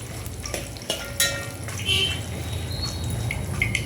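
Spices fry in a pan while being stirred until they turn red, giving a soft steady sizzle broken by a few light scrapes and clicks of a spoon against the pan.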